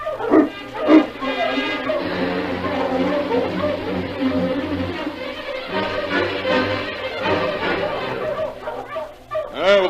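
Sled-team huskies bark and yip in a 1944 radio drama set on a Yukon trail, a busy chorus of overlapping dog barks with voices mixed in throughout.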